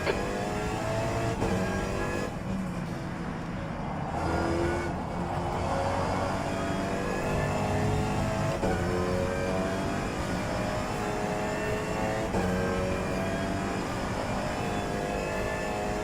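Race car engine running at high revs through a lap of Donington in the rFactor 2 racing game, a steady loud drone with shifting pitch as it accelerates and changes gear, continuous with no talk.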